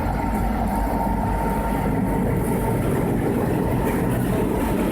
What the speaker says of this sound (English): the C&M crew is reversing their train to Columbus Road Crossing to couple up with the rest of their train